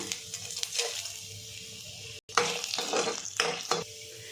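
Mustard seeds, cumin and chana and urad dal sizzling in hot oil for a peanut okra fry: soft close crackling with scattered pops and stirring scrapes, broken by a brief cut of silence midway.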